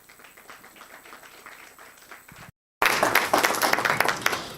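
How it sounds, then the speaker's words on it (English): Applause for award winners at a Kenyan nutrition event: faint scattered claps at first, then after a brief silence a loud, dense burst of clapping from a crowd. "Another round of applause until she gets to sit down, please."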